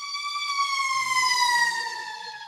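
A fire engine siren from a nearby fire station wails in a steady, loud, slowly falling tone that fills the whole clip, with no voices over it.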